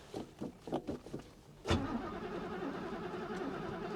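An old car that has sat unused since 2006 cranks with a few uneven starter pulses, then catches and settles into a steady, rough idle close by.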